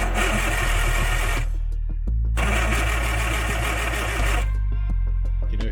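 A long-untouched kit car engine cranks over on brake cleaner with no petrol, the starter churning in two loud, steady bursts separated by a short pause, close by and continuous throughout.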